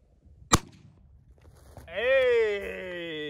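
A single sharp, loud gunshot as a 40-grain 5.7x28 bullet is fired into Kevlar rope, followed by quiet handling noise and then a drawn-out tonal sound.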